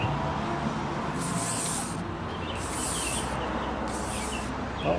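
Three short bursts of aerosol spray hissing into a garden hose nozzle, each about a second long, separated by brief pauses over a low background rumble.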